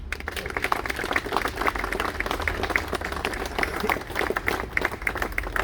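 An audience claps together in a steady burst of applause, moderately loud and sustained for several seconds.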